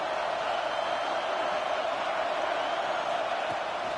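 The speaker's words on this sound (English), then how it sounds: "this crowd trying to help keep them there" A dense, steady roar from a big college football stadium crowd at an Arkansas versus SMU game, a continuous wash of many voices holding level throughout with no single voice standing out.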